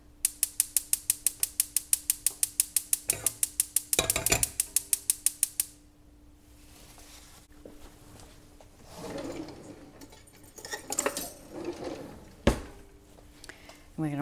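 A whisk beats a mixture with softened butter in a pan on the stove over medium-low heat, giving a rapid, even run of metallic clicks for about five seconds before giving way to quieter, scattered kitchen handling sounds.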